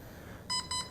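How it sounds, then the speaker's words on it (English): A receiver in an FMS F4U Corsair 800mm V2 model plane gives two short, quiet electronic beeps in quick succession after binding, over faint background hiss. "I heard some beeps"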